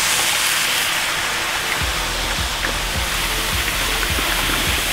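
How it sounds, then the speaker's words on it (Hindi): Water pours steadily into a large cooking pot for a big batch of Maggi noodles, a loud continuous gushing splash up close with no talk. "और अब डालेंगे इसमें पानी"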